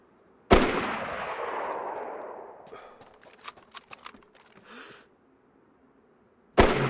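Gunshots in DayZ: one loud, close blast with a long echoing tail, a scatter of fainter shots and clicks, then another loud shot at the end.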